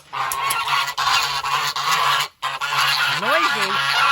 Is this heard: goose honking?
yes